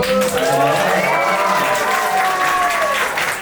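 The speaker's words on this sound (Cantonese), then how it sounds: "觀眾都俾啲呼聲同掌聲" An audience cheers and claps steadily at a yo-yo competition in Hong Kong, a dense, continuous wash of applause with whistles and shouts.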